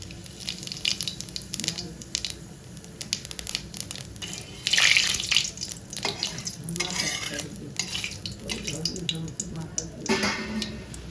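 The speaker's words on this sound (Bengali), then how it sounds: "তেল গরম হয়ে গেছে, ফোড়নের জন্য কটা কাঁচা জিরে আর দুটো শুকনো লঙ্কা দিয়ে দেবো" Cumin seeds and dried red chillies frying in hot mustard oil for tempering, a busy crackling sizzle with stirring and scraping, a louder burst midway, all close by.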